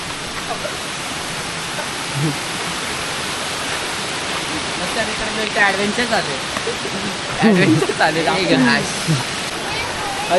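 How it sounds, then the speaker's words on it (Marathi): A waterfall roars as a constant dense rush on a rainy rocky hike, with people talking over it throughout. "धबधब्याचा आवाज येतोय."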